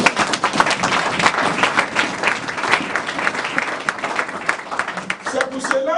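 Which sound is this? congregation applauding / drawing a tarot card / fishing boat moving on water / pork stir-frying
congregation applauding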